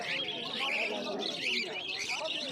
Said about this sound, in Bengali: এই খাঁচাটার মধ্যে দেখতে পাচ্ছেন প্রচুর বদ্রি পাখি রয়েছে